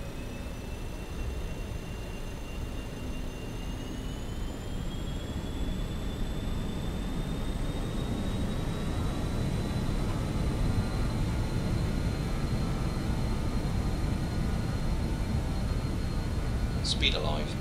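A BAe 146 four-engine jet rolls down the runway for takeoff in Microsoft Flight Simulator, a steady broadband engine roar with rising turbine whine building over the roll, continuous and moderately loud, with occasional voices over it.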